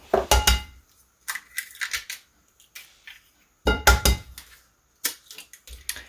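Two eggs cracked against a bowl and dropped into sweet potato dessert batter, heard as short clinks and taps that come in a few separate bursts with quiet gaps between them.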